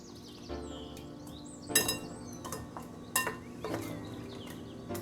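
A spoon stirs pumpkin custard ingredients with a pinch of salt in a bowl, giving a few sharp clinks against the sides over a quiet background, with faint birdsong outside.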